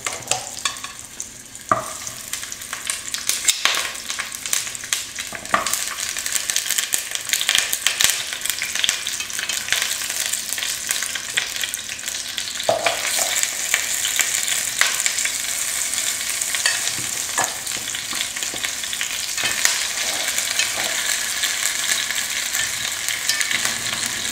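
Beef bones brown in a stock pot with a loud, crackling sizzle that runs steadily throughout, punctuated by occasional sharper pops and scraping knocks, close-up and with no talking.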